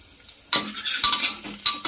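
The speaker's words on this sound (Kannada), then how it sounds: "ಈರುಳ್ಳಿನ ಸ್ವಲ್ಪ ಫ್ರೈ ಮಾಡ್ಕೊಳ್ಳೋಣ" Onions and curry leaves fry in hot oil, starting with a sudden loud sizzling burst after a quiet moment, then continuing with crackling and stirring scrapes that rise and fall in waves.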